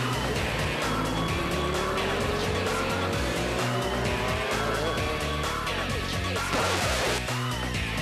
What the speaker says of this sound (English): Here comes some very nice-looking, expensive sports cars.